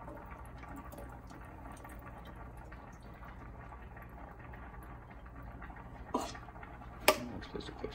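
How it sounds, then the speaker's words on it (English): Fat being drained from cooked ground meat for shepherd's pie: a steady, faint bubbling liquid trickle, ending in a few sharp clinks of a pan or utensil near the close. "drain the fat"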